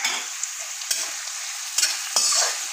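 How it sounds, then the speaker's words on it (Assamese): Chopped onion, garlic, ginger and green chillies fry in a pan with a steady close sizzle, broken by several sharper scraping stirs. "এতিয়া এইখিনি অকণমান গোন্ধটো মৰালৈকে অকণমান ভাজি ল'ব লাগিব।"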